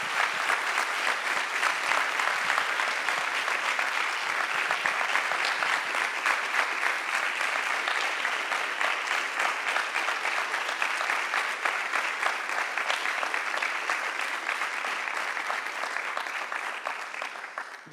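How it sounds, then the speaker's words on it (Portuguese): Sustained audience applause at the closing of the Coura Veg 2019 vegetarian festival in Paredes de Coura, a dense, steady wash of many hands clapping at close range that holds evenly for the full stretch before easing slightly at the end. "eu acho que merecem uma salva de palmas"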